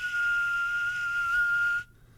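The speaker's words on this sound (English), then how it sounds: "Even as we whistle" A person whistles one steady, sustained high note for nearly two seconds, loud and close, alone with no talk, ending abruptly.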